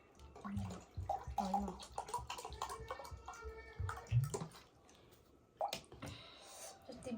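Water is poured and splashes close by while people eat a spicy noodle meal, with irregular splashes and trickles mixed with soft handling noises and some talk.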